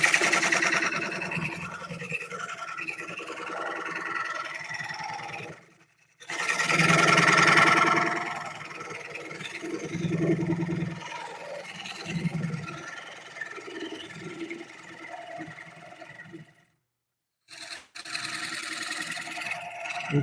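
Wood lathe spinning a bowl blank while a carbide scraper cuts it, giving intermittent rough scraping and whining bursts with short pauses between passes, fairly close and with no talk.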